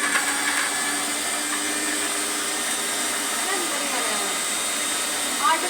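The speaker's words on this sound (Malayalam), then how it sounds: "അപ്പോൾ അത് മിക്സിയുടെ ജാറിലേക്ക് ഇട്ടിട്ട് 2 വറ്റൽമുളക് ഇട്ടിട്ട് അരച്ചെടുക്കുകയാണ് ചെയ്യണത്" A kitchen mixer grinder blends tomato with two dried red chillies, making a steady, loud whirring drone that runs unbroken for the whole stretch.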